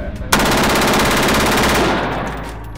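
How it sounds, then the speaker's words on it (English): An H&K MP7 submachine gun fired on full auto at a shooting range, one loud, rapid burst of closely spaced shots lasting about a second and a half, then trailing off into echo. "the H&K MP7, because it's like shooting a bullet hose"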